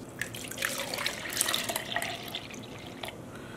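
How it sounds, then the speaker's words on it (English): Liquid dye solution is poured over yarn for acid dyeing in a steam pan, a close, steady splashing trickle with scattered drips lasting a few seconds. "now we're gonna go and pour this over the yarn"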